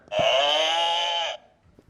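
A cow-moo buzzer sound effect on an Australian TV footy quiz show: one loud, sustained bleating tone lasting just over a second, heard alone and ending abruptly.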